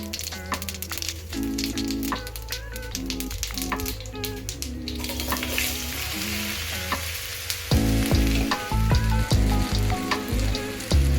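Spices sizzle loudly in hot oil, tempering for a brinjal curry, a steady crackling fry that swells louder near the end, with no talking.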